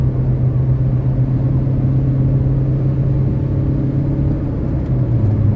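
A 2008 Honda Civic LX with a manual gearbox accelerating through the gears, a loud, steady engine drone and road rumble heard from inside the car, with a slight dip in pitch near the end as it shifts.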